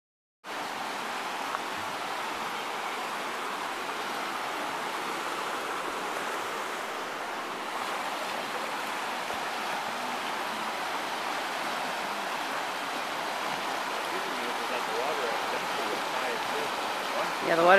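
The Dells of Eau Claire river runs high after rising water, a steady, unbroken rush of flowing water that fills the whole stretch evenly with no voices.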